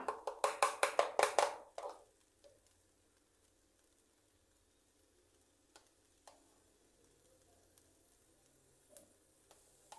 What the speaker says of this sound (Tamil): இப்போ இதுக்கு மேலே இந்த நம்ம வடித்து வச்சுருந்த முட்டையை ஊற்றிக்கலாம்